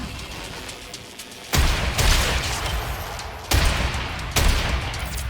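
Deep, booming blasts from an explosion in the video game Warframe, three heavy bursts about two seconds apart, each leaving a long rumbling wash of debris noise behind it, loud and close with no talking.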